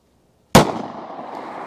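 A single sharp gunshot firing an HST round, a sudden loud crack after silence that trails off into a short echoing decay outdoors.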